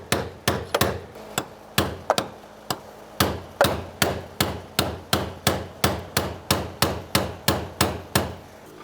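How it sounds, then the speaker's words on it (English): Hammer tapping a pry bar against the locking ring of a 2001-2007 Toyota Highlander fuel pump, about two dozen sharp metallic strikes in a steady, fairly quick rhythm, close and loud, with no talking. "I'm going to use a pry bar and a hammer and just tap this ring counterclockwise to break it free"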